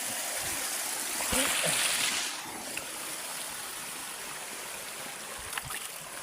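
A small mountain stream burbles and rushes steadily over rocks, a constant flowing wash with occasional soft splashes and a voice faintly in the background.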